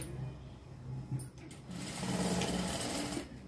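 A sewing machine runs steadily, whirring and stitching the lining of a long frock at close range, with a brief pause in the middle before the motor picks up again.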